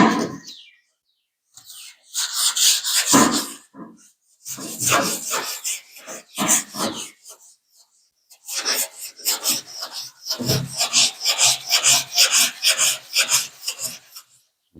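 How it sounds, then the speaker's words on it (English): Rasping sandpaper strokes scrub back and forth over 2K primer on a car body in quick rhythmic bursts, with short pauses between passes. "We'll just keep sanding a little bit."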